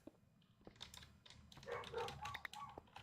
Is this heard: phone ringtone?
no